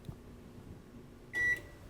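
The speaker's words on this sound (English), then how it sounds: "Computer, stop microwave." A microwave oven runs with a quiet hum, then stops with a short, clear beep near the end of the moment, in a kitchen with no talking.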